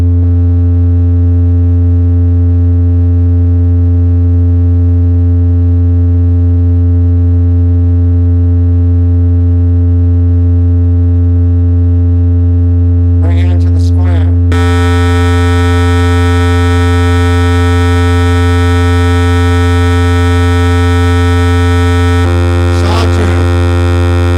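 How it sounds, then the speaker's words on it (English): A loud, steady electronic tone holds for a long stretch, then abruptly shifts to a brighter, buzzier timbre with brief glitchy bursts. "I'm going to go ahead and change it from the sine wave to the triangle"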